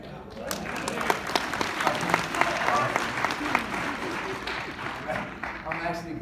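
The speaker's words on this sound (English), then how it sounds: "I'm actually glad you're clapping there" An audience claps steadily at a live talk, a full round of applause with a few sharper individual claps standing out, while a speaker's voice carries over it.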